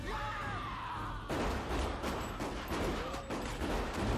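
Several gunshots ring out in the horror movie Scream 2, with muffled shots and a scream mixed into the soundtrack, moderately loud and blurred under music.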